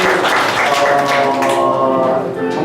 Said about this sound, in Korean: 박수 한번 해주시면 좋겠습니다